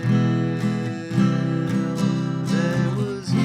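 A guitar plays the ending of a song, with warm, close strummed chords changing every half second or so and a few picked notes gliding above them.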